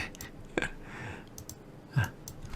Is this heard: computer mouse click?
yes